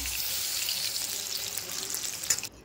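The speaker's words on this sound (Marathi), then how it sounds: "घोसाळ्याची भजी हे पहा तळतायत मस्त." Ridge gourd bhaji deep-frying in oil in a home kitchen, a steady bubbling hiss of hot oil that fades out abruptly at the end.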